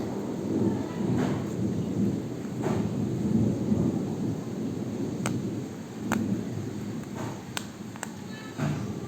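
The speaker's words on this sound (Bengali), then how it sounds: "খুব জোরে বৃষ্টি পড়ছে।" Heavy rain falls steadily, a loud, broad rushing wash heard up close, with deep rumbles and several sharp, brief cracks scattered through it.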